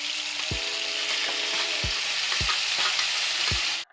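Leftover ground masala paste being stirred into a stuffed brinjal curry, with a steady frying sizzle underneath and several sharp spoon knocks against the pan at irregular intervals, ending abruptly.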